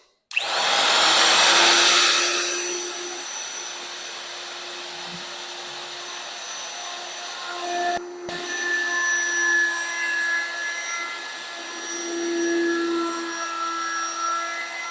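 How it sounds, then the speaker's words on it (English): A power tool whines steadily while cutting aluminum during a laminate countertop build, with a loud burst at the start that settles into a sustained tonal drone with slight pitch shifts. "Let's see if we can cut some aluminum."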